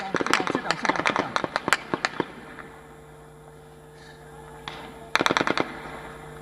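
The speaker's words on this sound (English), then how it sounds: "that's some aerial firing that is being done, constantly being done on the protesters and by the protesters" Aerial gunfire rings out at a protest rally at D-Chowk in Pakistan, with rapid loud bursts of shots, then a lull, then another sharp volley, while a person talks nearby.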